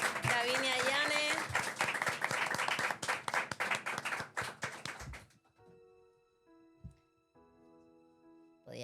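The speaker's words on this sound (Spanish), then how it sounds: "un aplauso para la compi" An audience at a live show applauding, dense clapping over cheering voices that fades out after about five seconds, leaving a quiet room with faint tones and a few stray sounds.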